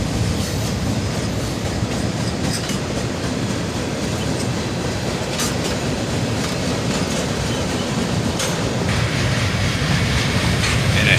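Freight cars of a CSX train, including boxcars, roll steadily past on the tracks, a loud, continuous close rumble with rhythmic clicking of wheels over rail joints and brief metallic squeals, no voices.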